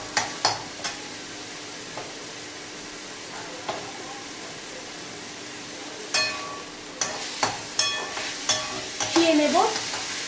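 Chicken mince with garam masala and salt frying in oil, a continuous sizzle broken by repeated sharp scrapes of a stirring spoon against the pan, close and fairly loud.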